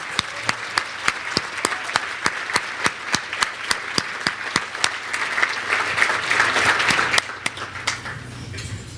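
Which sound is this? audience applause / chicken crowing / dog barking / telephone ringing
audience applause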